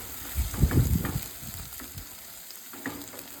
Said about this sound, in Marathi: आता हे जे वाटण आहे ते आपण व्यवस्थित तेल गरम झालं की त्याच्यामध्ये टाकून मस्त असं परतून घेणार आहोत.